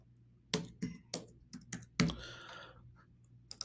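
Computer keyboard keys struck in an irregular run of distinct, close clicks and taps, a few louder strokes among lighter ones, as address details are entered, over a low steady hum.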